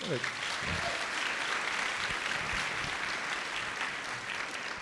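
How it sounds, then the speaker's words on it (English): An audience at a women's leadership luncheon applauds, a steady wash of clapping held at an even level for several seconds, with a little low murmuring and movement underneath. "let's give them a big round of applause"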